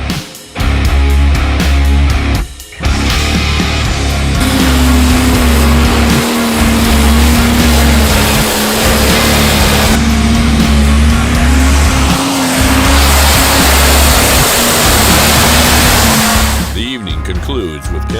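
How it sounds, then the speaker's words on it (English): Loud, roaring turbocharged diesel pulling tractors strain under heavy load at a tractor pull, a constant throaty rumble with a droning tone, nearby and overwhelming. "pilot their turbocharged diesel smoke-spewing tractors in a pull-down style high-horsepower showdown"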